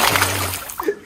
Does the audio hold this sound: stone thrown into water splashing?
yes